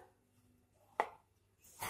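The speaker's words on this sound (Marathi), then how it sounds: "कैरी कापून झाली" A knife cuts through raw green mango with its peel still on, making two sharp, isolated chops about a second apart against a quiet background.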